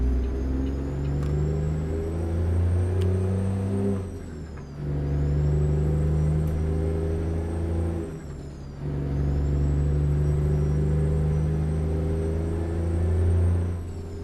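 A Peterbilt truck engine in a trucking video game drones loudly at high revs against the rev limiter, holding a steady roar that dips and cuts out twice before surging back.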